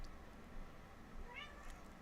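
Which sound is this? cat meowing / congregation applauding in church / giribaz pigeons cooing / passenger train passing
cat meowing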